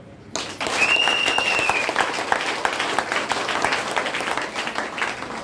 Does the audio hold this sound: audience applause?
yes